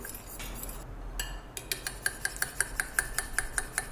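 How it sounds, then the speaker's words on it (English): An egg is whisked in a bowl for prawn fritter batter. A utensil strikes the bowl close by in quick, regular clinking taps, loudest toward the end, after a brief softer start. "Just whip it up a little."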